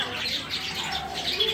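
A lone pet bird chirps inside a store with soft, high repeated tweets, close by, mixed with quiet chatter from people nearby.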